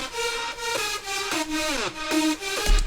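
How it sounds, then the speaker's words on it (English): Layered EDM synth leads stack into one bright, harmonically rich lead line, playing sustained notes with pitch glides over about three seconds, loud and continuous with no voices. "This is a really EDM sounding lead. And all together, they sound like this."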